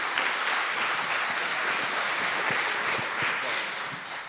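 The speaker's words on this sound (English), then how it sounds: "So a big applause for Martin for his next presentation." Steady audience applause fills a conference hall after a speaker is introduced at a hacker-camp talk, dense and continuous throughout, tapering slightly at the end.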